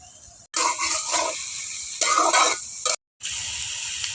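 Chopped onion and green chillies hit hot oil in a frying pan with a loud, close sizzle, which swells and fades in bursts over a few seconds with brief silent gaps.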